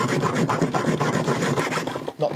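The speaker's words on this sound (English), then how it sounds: "go through with a hacksaw to get through the reinforcing" A dull hacksaw rasps back and forth through the reinforced plastic of an old connector, with quick, harsh strokes that keep up steadily and close, with a brief pause near the end before cutting resumes.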